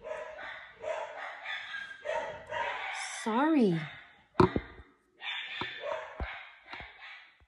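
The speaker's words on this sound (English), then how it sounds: "my dogs cannot shut the F up." Dogs bark with a few sharp yips at home, short, loud bursts breaking in between stretches of someone talking.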